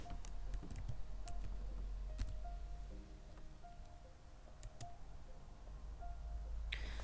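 Quiet keyboard typing on a computer runs through the clip as light, scattered key clicks and taps over a low background hum, with no talk.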